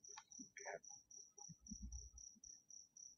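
Crickets chirp in a steady, evenly spaced series of short high pulses, faint and close, with a few soft scattered background noises beneath.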